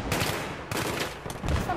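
Rapid bursts of gunfire in Battlefield 3 team deathmatch on Grand Bazaar, loud and close, several clustered volleys in quick succession with no talking.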